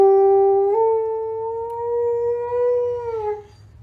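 A dog howls on cue in one long, loud, sustained tone that steps up slightly in pitch, holds, then fades out, close and clear with a faint low hum beneath.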